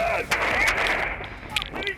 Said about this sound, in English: At this moment, gunshots are heard, at least a dozen of them.